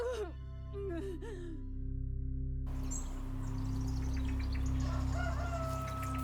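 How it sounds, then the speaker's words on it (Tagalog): A rooster crows loudly nearby in a long, rising then falling call, over a steady low hum and faint background chatter. "Pagtilaok ng manok"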